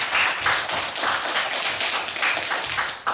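Congregation applauding during a Sunday church service: continuous, dense clapping from many people throughout, fairly loud and roomy, with no speech over it.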